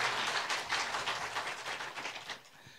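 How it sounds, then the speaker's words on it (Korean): A church congregation claps together during a Sunday service to thank volunteers for the Christmas decorations. The dense, steady crowd applause sounds somewhat distant and subdued, holds for a few seconds with no voices, then thins out and fades near the end. "수고하신 분들 위해서 우리 박수로 우리 마음을 전했으면 좋겠습니다."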